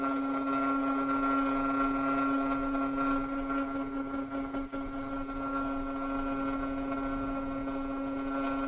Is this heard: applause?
no